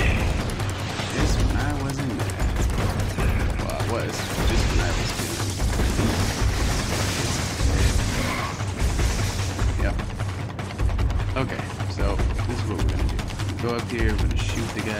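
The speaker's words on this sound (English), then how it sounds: "Yep, we get shot at." Gunfire and explosions from the video game Infamous crackle in dense, continuous bursts with loud booms and crashes throughout, a chaotic firefight mixed with voices.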